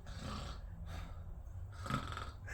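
A voice makes snorting, snuffling sounds in short rhythmic bursts, imitating a wheezy pug, fairly quiet and close.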